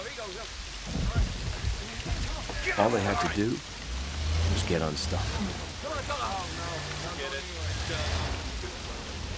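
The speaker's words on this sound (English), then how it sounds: "The storm was coming right at them." Heavy rain from a thunderstorm beats steadily around a stuck vehicle, with low rumbling underneath, while people talk over the downpour throughout.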